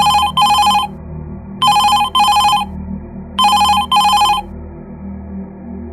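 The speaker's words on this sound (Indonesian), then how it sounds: "telepon kantor berdering." An office telephone rings in a repeated double-burst pattern, three pairs of bright electronic trills separated by pauses, close and loud over a low steady room hum.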